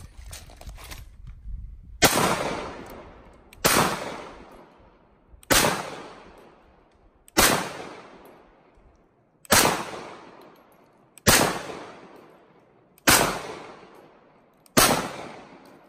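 Semi-automatic gunfire in Capitol Forest near Olympia, heard as eight sharp single shots spaced about two seconds apart, each ringing out with a long decaying echo through the trees, fairly distant, no talk.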